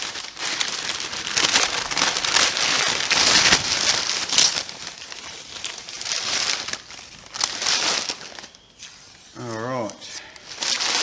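Crinkly plastic wrapping rustles and crumples as a wrapped car part for an XT Falcon build is unwrapped by hand, close and uneven, with a person speaking at points.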